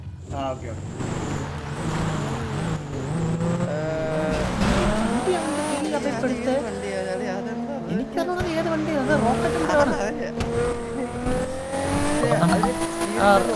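A drag race car in a video game revs and accelerates with rising and falling engine whines and brief tire squeals, mixed with voices talking over it.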